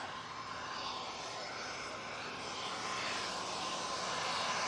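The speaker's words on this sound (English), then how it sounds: "Some BizJet action for you." A business jet at Manchester Airport gives off a steady, moderately distant jet roar with broadband hiss, holding fairly constant and swelling slightly toward the end, with no talk over it.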